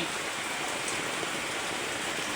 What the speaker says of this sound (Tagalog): Ayan, lumalakas na naman ang ulan.